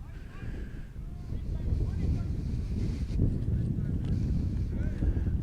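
Wind buffets the microphone at an outdoor field during a U17 boys' soccer match, a steady low rumbling roar that swells after the first second and holds, with faint voices beneath.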